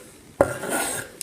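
Chopped vegetables with chilli, mint and oregano dropped into a bowl, a single sharp clatter followed by a brief rustling slide of the pieces settling, then a small tap, close and quiet.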